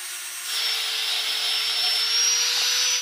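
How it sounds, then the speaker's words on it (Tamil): A power tool sands the edges of a cut wooden piece for a resin art frame, starting after a brief quiet and then holding a loud, steady whirring hum with a grinding rasp. "இப்போ நம்ம கட் பண்ணி எடுத்த அந்த பீஸில் அந்த எட்ஜஸ் நல்லா தேய்ச்சி ஃபினிஷிங் பண்ணிக்கலாம்."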